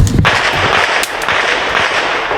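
Gunfire cracks sharply in a wartime setting near drone operations, with a loud shot at the start and another around a second later over a dense, continuous roar of distant firing and blast noise.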